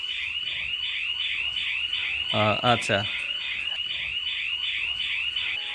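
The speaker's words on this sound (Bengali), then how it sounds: "সিকিউরিটি অ্যালার্মটা আসলে একটু বাজুক" A GSM home security alarm goes off when the main door of a house is opened, sounding a loud, continuous warbling siren throughout while a person speaks briefly partway through.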